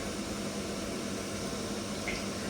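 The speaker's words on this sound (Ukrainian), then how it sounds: "Сковорідка розігрілася, ложу. Ну і смажимо так, як звичайні котлетки." Cutlets fry in a hot pan, giving a steady, even sizzle throughout with no talking.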